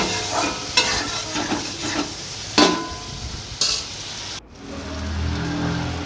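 Fish with ginger, cumin and coriander paste being stir-fried in a pan, with several distinct scraping stirs over a continuous sizzle, then a brief break before the frying sound resumes.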